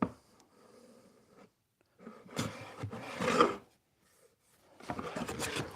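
Hand plane shaving across a small wooden table top, several rasping strokes of varying length separated by brief pauses, close and moderately quiet.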